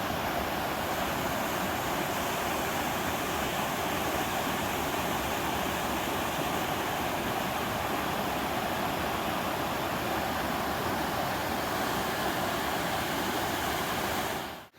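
Loud, steady roar of fast-rushing water, a river swollen after heavy rains churning close by, continuing without a break for the whole stretch.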